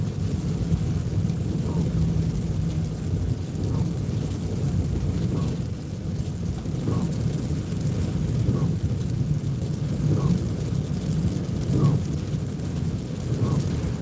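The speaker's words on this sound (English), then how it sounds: "Driving at night, raining on a lonely road." Rain and thunder are heard from inside a car driving at night on a lonely road, a steady low rumbling wash of downpour and road noise with faint, recurring deeper rolls.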